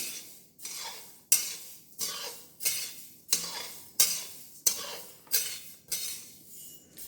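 Coriander seeds dry-roasting in a pan, stirred in regular sweeps about once a second, each stroke a bright rattling scrape of seeds and spoon against metal, close up with no talking.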